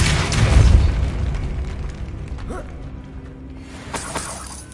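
Depulso spell impact in the video game Hogwarts Legacy: a loud booming burst with a shattering crash at the start, then fading rumble and a second smaller crack toward the end, no talk.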